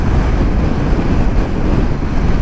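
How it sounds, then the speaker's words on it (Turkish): Strong wind blowing outdoors on the Kazakh steppe, a loud, continuous buffeting roar hitting the microphone with no other sounds. "şimdi rüzgar çıktı."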